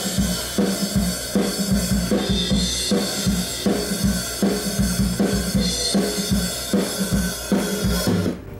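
A fully mixed and processed drum kit recording from a home studio, with a steady groove of punchy kick, snare hits and continuous bright cymbals, loud and alone without any voices.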